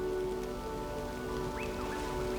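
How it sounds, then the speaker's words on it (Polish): Light rain begins to fall in a forest, a soft, steady patter under a constant hum, with a few faint bird chirps in the background. "zaczął padać deszcz"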